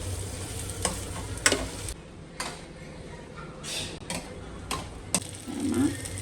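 Chili, tomato and onion fry in a pan with a soft sizzle and several sharp spoon scrapes and taps at uneven intervals, close and quiet with no talking.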